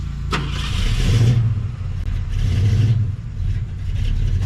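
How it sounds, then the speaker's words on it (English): A 1972 Ford F250 truck engine cranks on its starter and turns over, rising into a rough idle, then revs again briefly; a short sharp click near the start. "See if the starter works."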